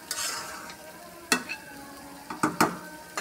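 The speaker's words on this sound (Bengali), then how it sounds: "মাংসটা ভালো করে মশলার সাথে মিশিয়ে একটু ভালো করে নেড়ে চেড়ে দিলাম" Beef tripe is stirred with spices in a pan: a soft background sizzle with several sharp scraping strokes of a spatula, some in quick pairs toward the end, and no talking.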